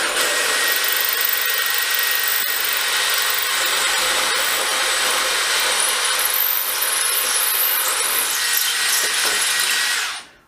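A DeWalt DCD701 brushless 12V drill with a standard masonry bit bores into concrete block, a steady loud whining grind held continuously for about ten seconds before cutting off abruptly at the end.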